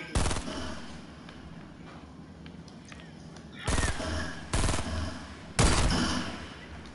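Gunfire in the video game Fortnite: four loud, sharp shots spaced a second or so apart, each a hard broadband crack, over a busy game background with faint voices.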